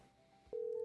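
A telephone call tone, heard during a live weather segment on a morning news broadcast in the Marianas, sounds as a steady, loud electronic tone that begins halfway through and holds to the end, with a fainter tone before it.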